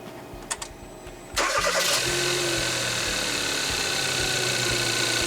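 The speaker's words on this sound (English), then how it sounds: "Let's start it up and see what it sounds like." A Kia Soul engine, just finished after a PCV valve replacement, cranks briefly with a few clicks before catching. It then settles into a loud, steady idle that runs to the end with no talk.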